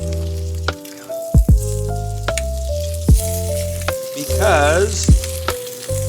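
Eggs fry over easy on a hot grill with steady loud sizzling, punctuated by sharp scraping and spatula clicks, and a voice speaks briefly.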